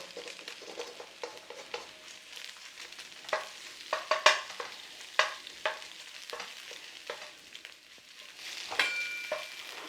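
Egg fried rice, made with dry day-old rice, is stirred and tossed in a hot pan, with a steady sizzle under repeated scraping and clattering strokes close by and no voices.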